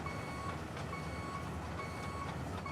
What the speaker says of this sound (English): you hear the beep? That indicates when I'm driving backwards.